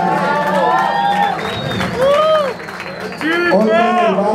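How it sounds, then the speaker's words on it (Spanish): A live rock concert crowd applauds and cheers loudly for the guitarist, while a singer talks over the ongoing clapping and a guitar rings out in the background. "Un aplauso para Juan Carlos en la guitarra en la secuencia."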